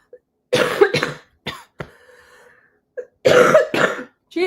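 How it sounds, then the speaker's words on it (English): A woman coughs repeatedly and clears her throat during a live talk show, the loud nearby bursts coming in two clusters with a quieter stretch between them. "I have not been coughing this much"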